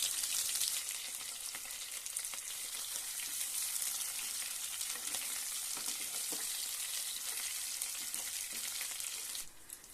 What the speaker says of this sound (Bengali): আলুগুলো মোটামুটি খুব ভালোভাবে ভাজা হয়ে গেছে